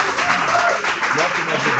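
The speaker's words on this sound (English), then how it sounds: "give one more applause for him, please" Short burst of audience applause at an MSI hardware event, clapping mixed with a voice speaking over it.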